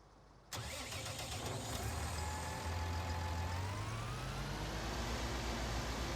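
A truck engine in a farming simulator game on the Felsbrunn map, starting abruptly and then running as a steady, loud, close drone whose pitch slowly rises, with no talking.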